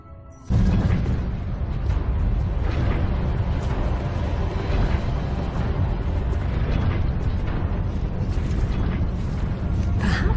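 An old gate in the Tomb Raider Underworld game being unbolted and swung open, a loud, sustained grinding rumble with creaks and mechanical clanks that starts abruptly and keeps going, with no speech over it.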